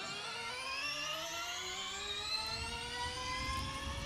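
A Formula E race car in Assetto Corsa at Long Beach pulls away from a standing start, its electric drivetrain producing a steady, rising whine with layered tones climbing in pitch throughout, loud and continuous with no talk.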